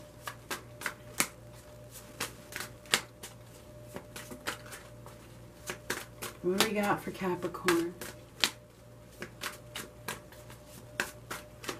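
Repeated crisp riffles and snaps of tarot cards being shuffled close by in a steady rhythm, with a brief spoken question partway through.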